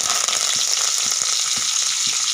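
Oil crackles and sizzles in a pan with cumin while moong dal fry is being made. The frying hiss is dense and continuous, heard close and alone without any talk.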